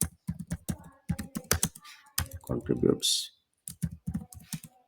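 Typing on a computer keyboard, light clicking keystrokes scattered beneath someone talking steadily close to the microphone.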